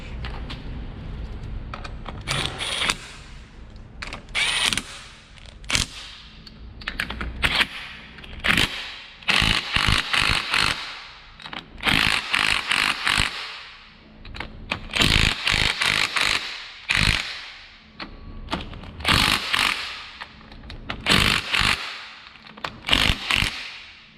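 Bolts on a 2005-2019 Toyota Tacoma front leveling kit being tightened to the frame with a power tool, giving a series of loud, rattling bursts separated by short pauses, close up.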